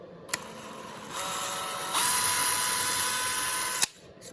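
A small power drill with a small bit whines steadily, its pitch rising in steps as it speeds up, then cuts off abruptly after a few seconds.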